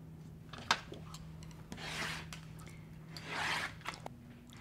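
Rotary cutter and ruler trimming the edges of a quilt block on a cutting mat, faint soft rubbing and scraping strokes with a couple of small taps, over a low steady hum.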